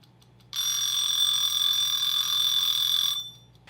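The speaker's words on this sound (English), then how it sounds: "So it sounds like your run-of-the-mill old school alarm clock" A loud mechanical bell from an old-fashioned alarm clock rings continuously for about three seconds, a bright metallic clatter that starts abruptly and stops cleanly.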